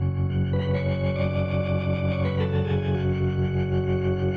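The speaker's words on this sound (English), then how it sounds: "we can add a reverb to kind of really tie this in here. So like I said, one of my favorites is this AA reverb." A synth patch in Vengeance Avenger 2 plays sustained gliding notes washed in the AA reverb effect, giving a thick, echoing chorus-like tone that changes pitch midway.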